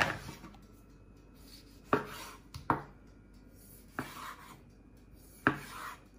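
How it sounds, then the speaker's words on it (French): A knife slices through a yellow tomato on a cutting board in a kitchen, leaving four or five crisp, separate thunks a second or so apart, close and clear with soft rubbing between cuts. "On va couper notre tomate jaune."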